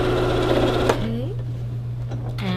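A sewing machine stitching quilt fabric for an easy springtime baby quilt, humming steadily at close range under a low hum, then stopping abruptly before a few small clicks.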